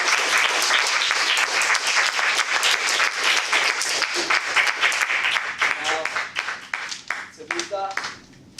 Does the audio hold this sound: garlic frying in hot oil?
no